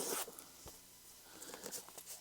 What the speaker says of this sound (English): Here's a 6-inch zipper